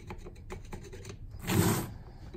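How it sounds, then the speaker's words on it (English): A screwdriver scrapes built-up gunk off the teeth of a tool: a run of quick, scratchy ticking strokes, then one louder, longer scrape near the end, close and with no talking. "So I'll use the screwdriver first."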